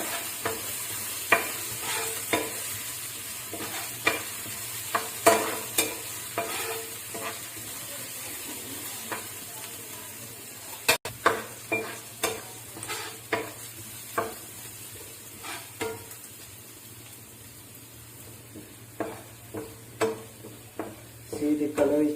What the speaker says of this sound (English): Then add the ginger and saute it till it is brown in color.